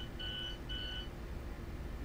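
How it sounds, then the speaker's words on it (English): A small alarm in the Train Sim World Rapid Transit game gives two short steady electronic beeps in quick succession, clear and close over a low rumbling cab hum, then stops while the hum carries on. "Yeah, the little alarm. You get little alarms here and all sorts of stuff"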